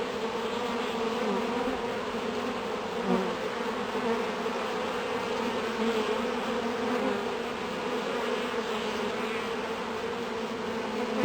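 Dense, steady buzzing of many honey bees around an opened hive, a continuous droning hum that holds its level throughout.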